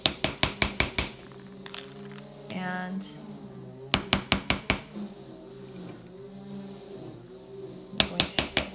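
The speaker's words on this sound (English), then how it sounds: "I'm going to hammer that down." A small hammer strikes a wire earring frame on a steel plate in three quick bursts of sharp metallic taps, with someone talking between the bursts.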